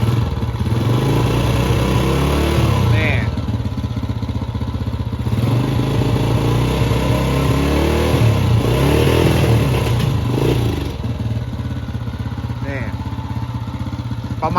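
A used dirt bike engine runs loud and close, steadily idling with repeated revs rising and falling, while a person talks over it.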